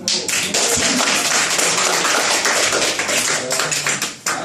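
A roomful of people claps steadily after a talk on an AIMGLOBAL business opportunity, dense continuous applause lasting a few seconds before tapering off, with no voices over it.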